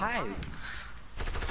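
Gunfire in Fortnite Battle Royale: loud rapid bursts of shots in quick succession, partly under a man's brief speech.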